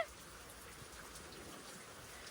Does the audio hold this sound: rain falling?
yes